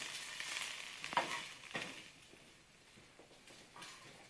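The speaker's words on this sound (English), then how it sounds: "now we're going to be browning the onions. Get them nice and brown." Onions browning in a pan, a soft low-level sizzle with a few stirring scrapes, fairly faint and without talk.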